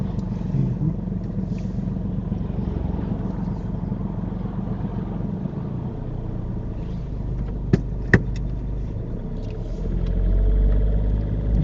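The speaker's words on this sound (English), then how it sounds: "Where have all these cars come from?" Road traffic near a roundabout during a driving lesson, a continuous low rumble of cars passing close by with a couple of brief sharp knocks partway through, and the engine drone swelling toward the end.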